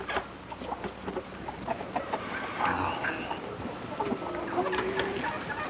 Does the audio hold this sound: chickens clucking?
yes